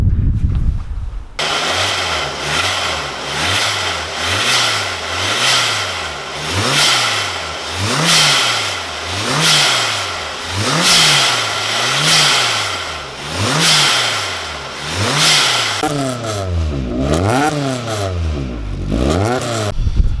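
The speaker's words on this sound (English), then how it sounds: "We'll start the car up and you can have a listen and see what something like this sounds like." A 300bhp supercharged MK1 Ford Escort Mexico track car starts and then revs over and over in rhythmic rising and falling blips, loud and close, with a burst of rapid quicker revs toward the end.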